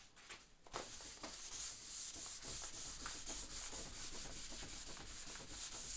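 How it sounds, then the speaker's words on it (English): Sandpaper rubs against walnut burl wetted with Restore Finish in quick, rhythmic back-and-forth strokes, a close, soft, steady scratching hiss repeating throughout. "I can press a little harder with the sandpaper"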